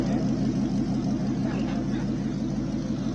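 Ford GT40 race car at a Cape Town hill climb crossing the finish line, a steady mid-pitched engine rumble holding at moderate distance for the whole stretch, with a faint voice over it.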